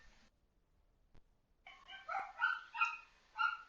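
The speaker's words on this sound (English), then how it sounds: "wouldn't be a stream without my dogs barking" Dogs bark from a little distance in a home during a stream, a quick series of five or six yappy barks after a brief tick and a moment of quiet.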